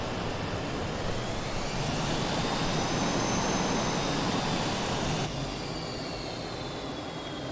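A Reno race plane roars in a flight simulator video game, its engine a loud, continuous drone with a faint high whine drifting across it.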